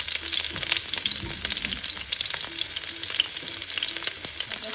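Sliced onions and peppers fry in hot oil in a wok, a close, steady crackling sizzle with scattered pops and occasional stirring scrapes, no voices.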